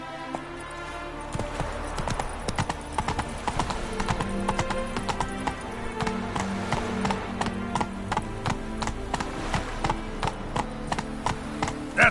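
Hooves of the horse Roach pound at a gallop in The Witcher 3, a steady rapid clip-clop rhythm running throughout, close and clear, with a short whinny.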